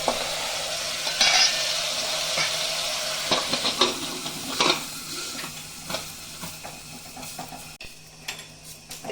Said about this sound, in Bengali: তো মশলা ধোয়া জল দিয়ে দিব।